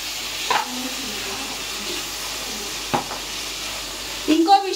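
Tomatoes go into a pan of hot oil with ginger paste, giving a soft, steady background sizzle broken by a few brief clinks of utensils and a short scrape near the end.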